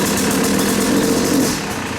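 A Yamaha YZ250 two-stroke dirt bike fitted with a Rekluse auto clutch revs up from idle, then falls back slightly. The engine is close and buzzy, in a single short burst with no talking.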